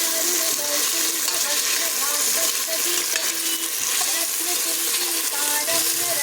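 Onions and carrots sauté in a hot pan for a soya chunk and carrot biryani, giving a steady, close sizzle with continual stirring scrapes throughout.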